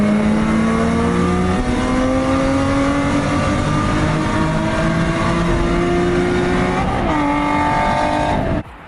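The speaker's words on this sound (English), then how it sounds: "you go ahead and do that 40 roll, maybe up to like 4th gear or so." An Infiniti G37 pulls hard from a 40 mph roll, the engine note climbing steadily through the gears with brief dips at each upshift. It is loud and close, with no one talking.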